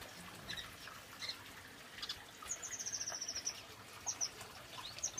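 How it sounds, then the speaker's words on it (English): Young painted finches call inside an aviary, faint high chirps and short twittering runs scattered over a quiet background. "Now, where are these young painted finches hiding?"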